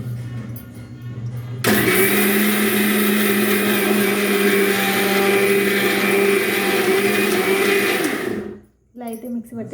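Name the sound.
mixer grinder grinding dosa batter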